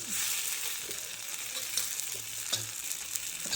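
Chillies and spices frying in a pan of oil for a black pavta (field bean) curry, a steady close sizzle with soft crackles and a few stirring scrapes throughout, no talking.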